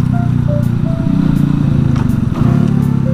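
Mini motorcycle engine running steadily during a road test ride, a low droning hum with faint whining tones over it, close and continuous throughout.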